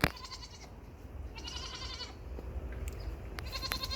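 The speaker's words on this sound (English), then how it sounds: "Noisy little goat." A recently weaned goat bleats repeatedly at a garden nursery, several insistent calls spaced across a few seconds, fairly close and clear over a faint outdoor background with no talking.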